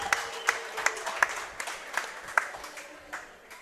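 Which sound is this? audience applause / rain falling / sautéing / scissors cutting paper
audience applause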